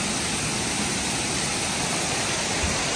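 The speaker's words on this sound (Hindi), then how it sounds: "यहाँ से आवाज़ आ रही है पानी गिरने की," Water tumbles down a small waterfall in Kerala, filling the air with a loud, unbroken roar and hiss, close by and constant from start to finish, with no speech over it.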